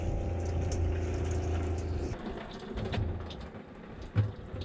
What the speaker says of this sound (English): The best shower in the world.